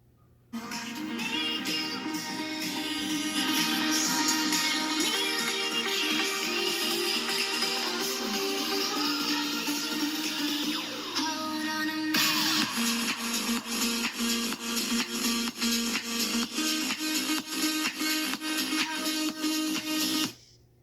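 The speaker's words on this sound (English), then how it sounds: "this is of course royalty-free music here" Royalty-free music blasting at near-full volume from a tablet's built-in speakers, a steady dense mix that carries on unbroken for about twenty seconds, with a brief shift in texture partway through and no talking.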